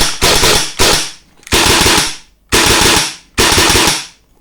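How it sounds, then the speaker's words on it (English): A Nerf AEG blaster fitted with a CNC aluminium cylinder and pusher dry fires in five loud, close bursts of rapid rattling shots, each lasting roughly half a second to a second with short gaps between them. "allow the blaster to survive accidental or deliberate dry firing"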